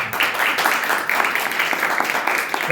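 Church congregation clapping their hands in praise during an anniversary service, a steady dense wash of many hands close by, continuous without pauses.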